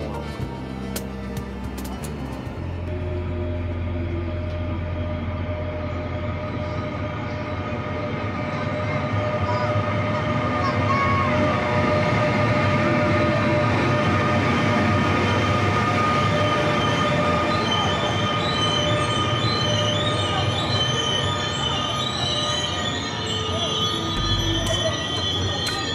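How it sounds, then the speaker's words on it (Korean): A Mugunghwa passenger train bound for Cheongnyangni arrives at Jipyeong station on the Gyeongui-Jungang line, its loud rumble building, with wheels squealing in high sustained tones and clanks, and it continues for over twenty seconds with no talk. "청량리 가는 무궁화호."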